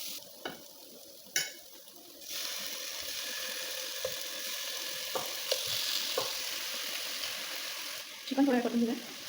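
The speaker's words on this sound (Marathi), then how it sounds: "चिकन थोडं परतून घेऊया." Chicken pieces with ginger garlic paste and salt frying in a pan for biryani, a steady moderate sizzle that starts after a couple of seconds, with occasional stirring scrapes and a brief voice near the end.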